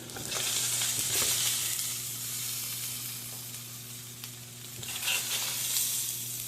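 A chicken chop cheese sandwich fries on a hot flat cooktop with loud, steady sizzling, broken by rough scraping strokes of a spatula across the surface, near and without speech.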